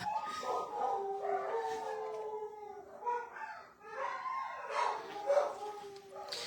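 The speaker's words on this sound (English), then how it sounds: "Uh-oh, dog's barking." Dogs howl and bark at a distance, long wavering cries rising and falling, broken by a few sharper yelps.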